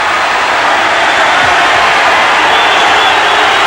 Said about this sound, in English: Bit of jeering too from the crowd.